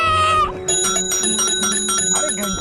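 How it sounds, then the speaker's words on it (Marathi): A bicycle bell rung repeatedly in quick, bright metallic trills, loud and close, with a short pause after the first ring and then steady ringing. "अरे घंटी वाजत बसणारेस का?"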